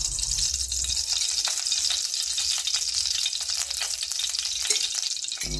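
Mustard seeds, cumin and curry leaves frying in hot oil in a kadai on the stove, a steady bright crackling sizzle with scattered pops throughout, close and continuous with no voices.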